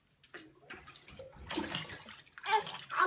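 A baby is bathed at home during a first bath. Soft, intermittent water swishes and small splashes come and go at low volume, close by, with faint voices nearby.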